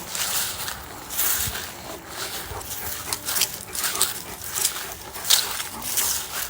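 A Great Dane whimpering outdoors on open land in winter, soft intermittent whines and yips rising over steady wind-like background noise, moderately close.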